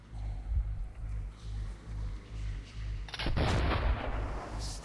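Gunfire in the video game Metro 2033 Redux, a dense burst of shots erupting in the second half over a low rumbling game soundtrack, loud and close with no talk.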